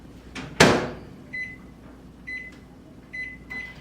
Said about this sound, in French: je vais faire fondre ma margarine dans mon Tupperware au micro-ondes 1 minute